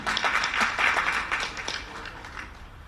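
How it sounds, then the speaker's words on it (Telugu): Clapping from a crowd at a political gathering, a brief, moderately loud burst of hand claps that fades over a few seconds, with no talking over it. "ఒకసారి మనకి మనం చప్పట్లు కొట్టుకోవాలి"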